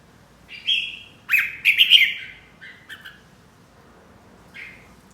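A red-whiskered bulbul calls up close while being hand-fed: a handful of sharp chirps and squawky notes in quick clusters, separated by near silence.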